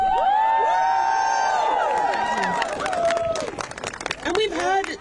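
A crowd at a students' climate rally near the COP26 summit venue cheers and whoops loudly, high voices and shouts overlapping, with scattered clapping toward the end.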